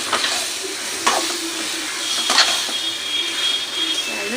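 Tomatoes sauté in a pan for crab masala, a soft steady sizzle with occasional scraping stirs and brief clinks, fairly quiet and close.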